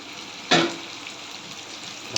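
Dried lote fish dropped into hot masala in a pan, a sharp burst of sizzling that flares up loudly then settles into a steady frying hiss.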